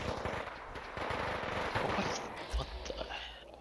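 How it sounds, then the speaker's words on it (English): A synth pulse explosion in a video game set in Boston comes across as a rapid burst of crackling, gunfire-like pops, followed by a low rumbling boom, with a voice talking over it. "That was a pulse explosion."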